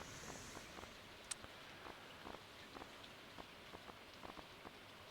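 Soft rain falls steadily in the video game Stardew Valley, a quiet patter with scattered small drop ticks and one sharp click, no voices.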